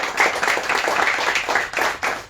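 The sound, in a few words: audience clapping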